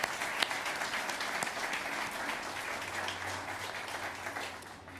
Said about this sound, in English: Please join me in giving them a round of applause as well.